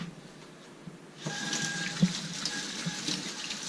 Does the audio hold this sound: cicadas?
no